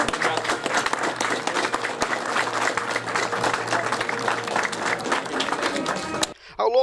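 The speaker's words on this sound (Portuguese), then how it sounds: "uma calorosa salva de palmas aos policiais militares." Warm, steady crowd applause for military police officers at a battalion anniversary ceremony, dense clapping filling the hall for about six seconds before cutting off abruptly.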